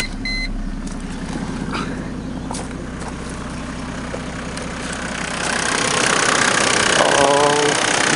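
Mercedes OM606 turbodiesel engine idling steadily just after start-up, a low continuous rumble with a faint ticking injection pump that grows slightly louder in the last few seconds, while a person speaks over it.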